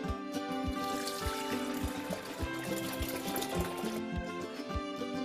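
Water poured off settling potato starch during homemade starch paste preparation for tteokbokki, a steady splashing, trickling pour with rhythmic clattering beats, close and fairly loud, without talk.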